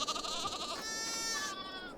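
Young sheep bleating in a pen in the farming game Farming Simulator 22, two drawn-out wavering bleats one after the other, clear and fairly close with no talk over them.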